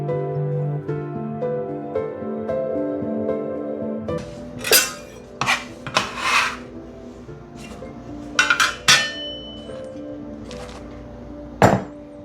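Garden vegetables are chopped on a board for a salad, giving sharp, close knife knocks in an irregular series, some doubled, after a few seconds of low background hum.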